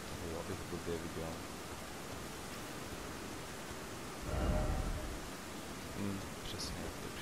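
Rain falls steadily in Elden Ring Shadow of the Erdtree, a constant soft hiss filling the background, with a brief low rumble swelling midway and faint voices underneath.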